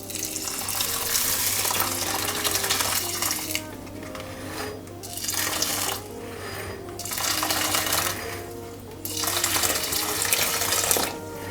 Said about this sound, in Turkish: Şimdi pirincimizi kabımıza koyduktan sonra hafif ılık olan suyumuzu dolduralım.